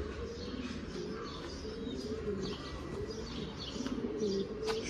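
Ordinary domestic pigeon cooing softly indoors, a few low repeated coos with faint chirps and rustling, quiet and nearby.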